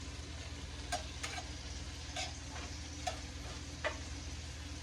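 Meat sizzling steadily in a hot pan, a faint continuous frying hiss with a few light ticks and taps scattered through, close and without talk.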